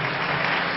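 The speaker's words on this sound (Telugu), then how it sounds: "గట్టిగా చప్పట్లు కొడదాం." A church congregation claps loudly together in a brief, steady burst of applause, dense and even with no voices on top.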